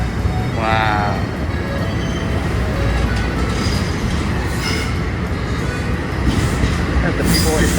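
A commuter train moves through a station on the Montclair-Boonton Line near Newark. Its low rumble runs steadily the whole time with a brief squeal partway through, and muffled voices sit under it.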